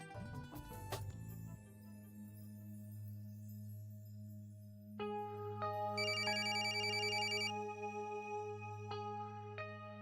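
A phone ringtone chimes in a domestic setting: a steady tonal ring starts midway, with repeated melodic bursts, clear and moderately loud, no talk over it.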